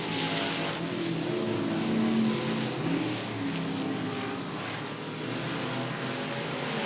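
E-Mod race cars racing at South Texas Speedway, a continuous roar of engines that stays at an even level throughout, with no clear breaks.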